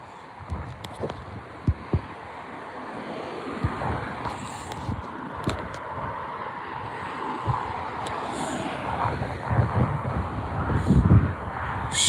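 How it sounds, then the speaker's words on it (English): Strong gusty wind at Newcastle Airport buffets the microphone with a steady broadband roar and low rumbling thumps that swell louder toward the end, with no voices. "it's definitely a windy day at Newcastle Airport"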